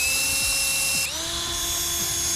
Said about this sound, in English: I am going to drill some pilot holes because I'm really nervous about splitting the plank